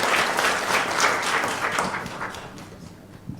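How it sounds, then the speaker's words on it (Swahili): An audience bursts into sustained applause, a dense wash of many hands clapping at once that gradually thins and fades toward the end. "Makofi tafadhali."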